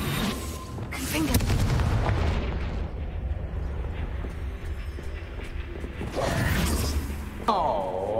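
Confringo blasting spell exploding in Hogwarts Legacy, with several booming bursts across a rumbling game soundscape, loudest near the start and again toward the end, while voices speak over parts of it.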